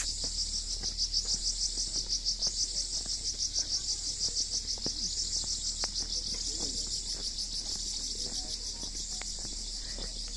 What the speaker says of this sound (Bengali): Listen to the insects and birds.